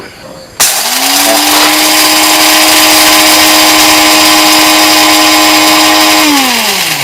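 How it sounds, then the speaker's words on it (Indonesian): A coffee-grinding blender starts with a sudden jump and runs at a steady, loud, high-pitched whine for several seconds, then begins to spin down near the end. "Ini memang blender khusus kopi."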